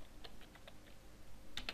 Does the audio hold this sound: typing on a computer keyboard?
yes